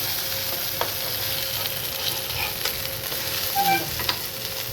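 Kolim vadi, small dried shrimp fritters in the Agri style, frying crisp in a pan over a low flame, giving a steady close crackling sizzle with a few brief clinks and pops partway through.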